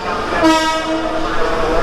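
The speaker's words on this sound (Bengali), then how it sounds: "ওই দেখুন একটা ট্রেন আসছে, এইরকম ট্রেন এইখানে চলে। এটা এক্সপ্রেস ট্রেন" An express train horn blares loud and close, a sustained tonal blast rising over the rumble of a moving train and fading slightly toward the end.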